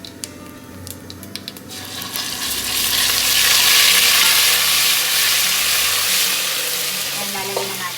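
Garlic-ginger paste and chili hit a hot pan, starting with a few sharp clicks and scrapes before swelling into a loud, sustained sizzle that gradually eases, no voices heard.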